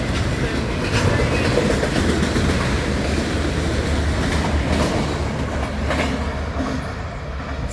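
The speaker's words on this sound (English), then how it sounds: "That train was motoring" A BNSF freight train of autorack cars rolls past at speed, a loud, steady roar with rhythmic wheel clatter and faint squeal close by, while a man briefly counts cars over the noise.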